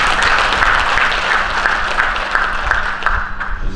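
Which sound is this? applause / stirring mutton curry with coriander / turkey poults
applause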